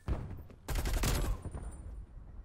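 An RPD light machine gun fires in Black Ops Cold War, a rapid rattling burst of close, loud gunshots lasting under a second, with some quieter shooting and echo before and after.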